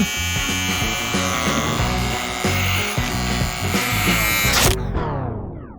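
An electric hair clipper buzzes loudly and steadily up close, a harsh tonal drone with rhythmic pulsing as it works through hair, before cutting off abruptly and leaving a fading ring.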